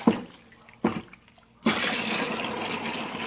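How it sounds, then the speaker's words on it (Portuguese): Water from a laundry-room tap gushes steadily after a couple of brief splashes, a loud, close, continuous rush filling the rest of the moment with no talking. "A água que eu liguei a torneira aqui."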